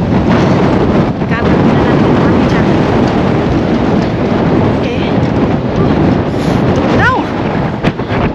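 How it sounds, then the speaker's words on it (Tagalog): Strong wind buffets a microphone outdoors in Finland, a steady loud rumbling roar with brief gusty swells, while someone talks intermittently over it. "Hangin na naman ng malakas masyado."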